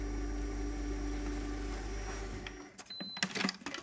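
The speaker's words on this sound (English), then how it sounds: "I just want to mix these in just on a low speed so we don't chop up those onions too" An electric hand mixer runs steadily on low speed through a caramelised onion dip for about two and a half seconds, then cuts out, leaving faint clinks and handling noises.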